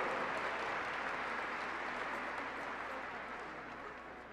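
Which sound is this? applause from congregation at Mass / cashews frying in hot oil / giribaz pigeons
applause from congregation at Mass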